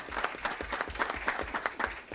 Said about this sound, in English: Would y'all give them a round of applause for doing that?